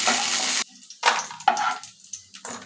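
Cashews and raisins hit a hot pan of oil, a loud burst of frying sizzle followed by a few shorter hisses and stirring scrapes, close and without speech.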